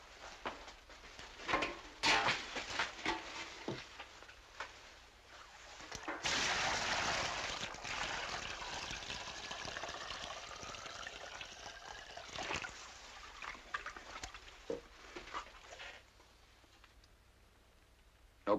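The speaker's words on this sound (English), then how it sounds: "Give me that bucket full of water, Billy." Water from a bucket splashes and pours in a sustained rush for several seconds, preceded and followed by scattered knocks and clatter.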